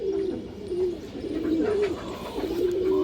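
A fancy pigeon of the silver variety, kept by a breeder, coos in soft repeated throaty phrases close by, with a faint background hiss.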